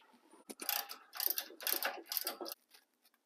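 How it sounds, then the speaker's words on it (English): A ratchet turns a brake line fitting on a GM Squarebody truck, several close bursts of rapid clicking pawl strokes with short pauses between them, ending in a few faint clicks. "now I can get it from the top with a ratchet"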